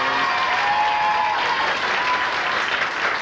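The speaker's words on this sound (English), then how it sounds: "Nice special round of applause for the champ." A game show studio audience gives a warm round of applause for the returning champion, dense steady clapping throughout the short stretch.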